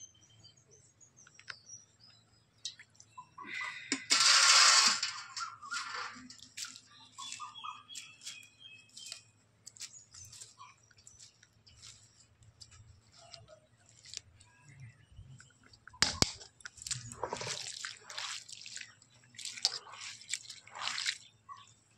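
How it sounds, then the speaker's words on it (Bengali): Cabbage is washed in water in a home kitchen while making Bengali cabbage chorchori, heard as close wet splashing, squishing and dripping in irregular bursts, with quiet gaps between the louder splashes. "এইভাবে দুবার তিনবার আমি বাঁধাকপি ধুয়ে নেব।"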